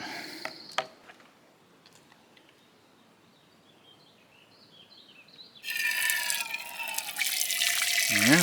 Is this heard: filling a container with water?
yes